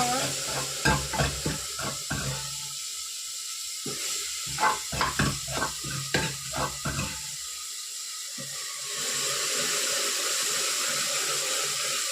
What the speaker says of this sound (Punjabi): ਹੁਣ ਮੈਂ ਰਸੋਈ 'ਚ ਤੜਕਾ ਲਾਉਂਗੀ